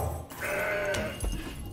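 A goat bleat from the Mountain Goat card being played in the Legends of Runeterra card game, a short wavering cry lasting about a second over a soft game background, with no talk.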